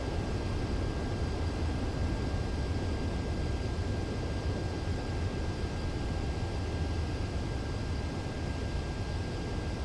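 Su-33 Flanker D jet in Ace Combat 7 coming in to land, a steady, loud broadband roar of jet engine and rushing air with a faint high whine, unchanging throughout and with no voices.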